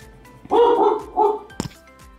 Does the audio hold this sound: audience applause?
no